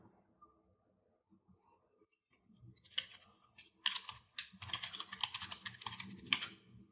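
Keys on a computer keyboard are typed in quick, irregular bursts that start softly and grow busier and louder toward the end, close up and with no voices.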